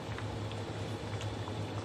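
Quiet, continuous bubbling of salted water at a rolling boil with lettuce in a pot, a soft steady gurgle with small pops and no voices.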